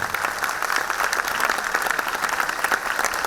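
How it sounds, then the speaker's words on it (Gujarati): Sustained, dense applause from a large audience at a school annual day celebration in Rajkot, steady and loud throughout with no pauses and no speech over it. "થઈ જાય જબરદસ્ત તાળીઓ."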